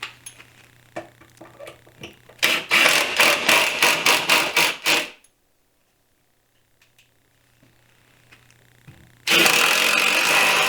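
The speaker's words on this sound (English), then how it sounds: "I'm going to be using 2-inch screws to screw the tops down." A power driver sinks 2-inch screws into deck table top boards: a burst of rapid, evenly spaced mechanical pulses, then near silence, then another steady whirring run starting at the end, close and loud.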